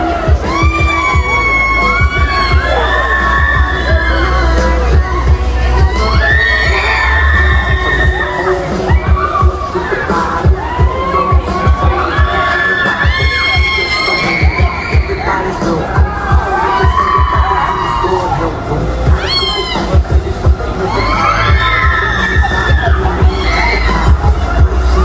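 Children shout and scream on a carousel, a loud, continuous crowd of overlapping high-pitched voices with rising whoops and cheers throughout.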